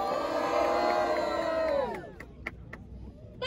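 Crowd at a Brazilian street rap battle cheering and shouting for a rapper, a loud sustained roar for about two seconds that drops off into scattered whoops and claps.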